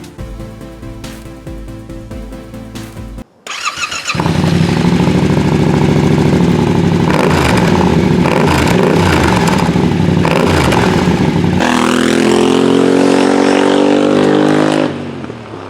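A Yamaha Tenere 700 fitted with a DominatoR exhaust is cranked over by its starter and fires, then settles into a loud, close idle with repeated throttle blips and revs.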